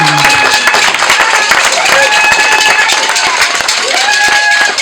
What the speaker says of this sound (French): Et je voudrais qu'on applaudisse ce soir